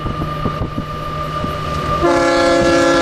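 An eastbound BNSF freight train led by three GEVO locomotives passes close by at Monolith in Tehachapi, with rhythmic wheel clatter on the rails before its loud, sustained multi-chime horn blasts in.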